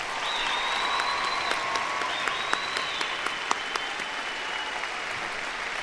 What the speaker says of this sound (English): a round of applause for you guys too, the class of 2013